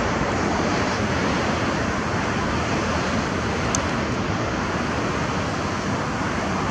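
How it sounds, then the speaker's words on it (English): Pacific Ocean surf makes a steady, broad roar with some wind, continuous and fairly loud throughout. "So that's the Pacific Ocean right there."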